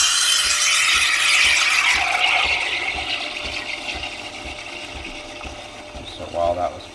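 A Ninja Luxe Cafe espresso machine froths milk with a steady, close whirring hiss that slowly eases off, ending with a brief clatter.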